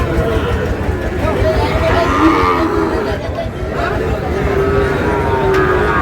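Sahiwal bulls moo loudly and repeatedly amid a busy cattle market crowd in Faridpur, with people chattering and calling nearby throughout.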